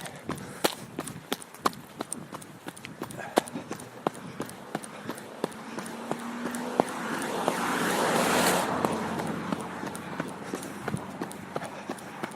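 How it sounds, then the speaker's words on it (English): A person running down the middle of a road, feet striking the pavement in a quick, regular rhythm of sharp close steps, with passing traffic noise swelling and fading beneath them. "I'm doing a little bit of weaving here to avoid the cars. I am running in the middle of the road."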